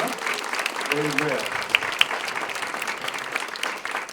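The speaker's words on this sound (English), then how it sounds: "Let's give Jesus a nice round of applause just for showing up." A church congregation at a Christmas gathering claps in a steady round of applause, with a voice briefly calling out near the start while the clapping continues underneath.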